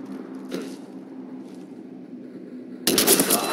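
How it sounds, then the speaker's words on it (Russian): Cannon fire in a sci-fi shooter game, a low droning hum with faint distant thuds and then a sudden loud, sharp burst of blasts near the end. "The cannon fire is clearing the way."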